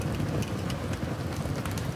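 Steady rain falls in Project Zomboid, a dense continuous hiss of drops with faint wind beneath, even and close, with no talk over it.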